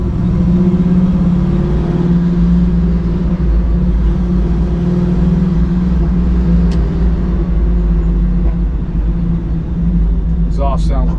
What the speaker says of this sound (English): Exhaust sounds really good.